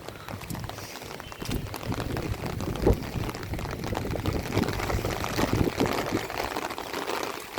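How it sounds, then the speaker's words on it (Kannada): Floodwater rushes steadily across a road at Bhagamandala's Triveni Sangama near Madikeri, making a continuous broad, pouring wash that stays loud and close for the whole stretch. "ಮಡಿಕೇರಿ ರಸ್ತೆ ಮೇಲೆ ನೀರು ಹರಿತಾ ಇದೆ"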